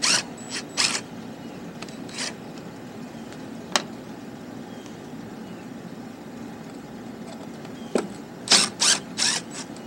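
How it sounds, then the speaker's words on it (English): A handheld impact driver spins screws out of a Troy-Bilt push mower, giving short ratcheting bursts near the start, a sharp single hit midway, then several quick rattling bursts close together near the end, with quiet pauses between them. "Okay, time to take the screws out here. I'm going to use the impact."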